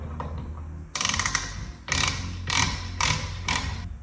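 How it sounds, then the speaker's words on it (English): The ratcheting hub nut mechanism on a Ford Sterling 10.25 rear axle from a 1985-1997 F250/F350 makes a series of sharp metallic clicks in four or five bursts, close and fairly loud, with no talk. "it locks it in place by the ratcheting mechanism you probably just heard"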